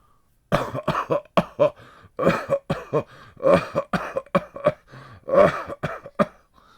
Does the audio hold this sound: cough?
yes